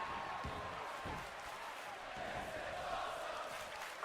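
A wrestling crowd in the WWE2K25 video game gives a steady, distant roar of cheering and murmur with a few soft thuds, fairly faint and continuous throughout.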